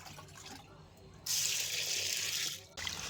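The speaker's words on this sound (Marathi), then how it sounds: "आता ही तूर 2-3 पाण्यामध्ये स्वच्छ अशी धुवून घ्यायची आहे" Pigeon peas (tur) being washed in water, with a loud close rush of running water starting partway through and cutting off briefly near the end amid quieter sloshing.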